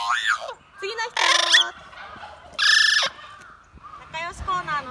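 A large sulphur-crested cockatoo at a zoo gives a rapid series of loud, harsh squawks and warbling, voice-like calls, close and alone.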